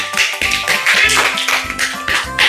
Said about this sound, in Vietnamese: Cả lớp vỗ tay với Hà nào.